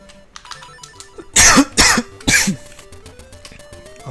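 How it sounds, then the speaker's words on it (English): A person coughs three times in quick succession, loud and close, during a Link's Awakening DX speedrun, with soft game music beeping underneath before and after. "I apologize for coughing."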